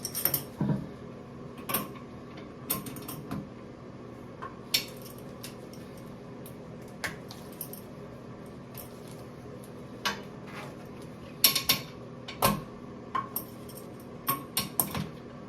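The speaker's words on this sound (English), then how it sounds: "Yeah, see, the bolt is still spinning." A toilet seat bolt spins as someone tries to tighten it during a seat replacement, giving scattered metallic clicks, scrapes and creaks at close range over a low steady hum, with no talking.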